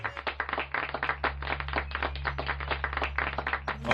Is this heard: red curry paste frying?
no